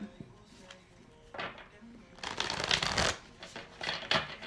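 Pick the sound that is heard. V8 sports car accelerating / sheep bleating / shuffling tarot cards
shuffling tarot cards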